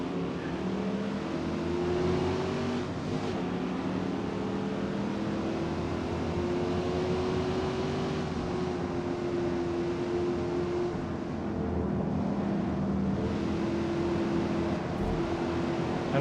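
Holden VN Group A SS race car engine in Gran Turismo 7, a steady loud droning engine note with shifting pitch as it revs and holds speed, continuous throughout with no talk.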